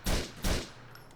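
Two sharp semi-automatic rifle shots in Grand Theft Auto IV, each a loud broadband blast about a third of a second apart, with a short ringing tail after the second and no talking.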